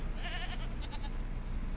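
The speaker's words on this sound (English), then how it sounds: "And more goats." Goats bleating in the video game Jade Empire, a few short wavering bleats heard at moderate distance over a low rumbling game ambience.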